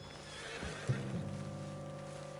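A single horse whinnies loudly and close, a shaky rising-then-falling neigh lasting about a second over a low steady background hum.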